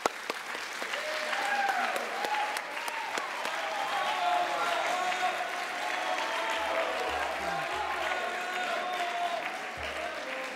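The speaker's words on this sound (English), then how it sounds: "Let's please give them another round of applause." An audience at a youth speech competition applauds at length, a full, sustained burst of clapping with scattered cheers and voices mixed in.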